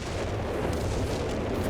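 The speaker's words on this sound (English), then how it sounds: "Barrage coming in maybe here." An artillery barrage in Company of Heroes 3, a dense and continuous rumble of distant shell impacts that blur into a low roar throughout, with no distinct separate blasts and no voices.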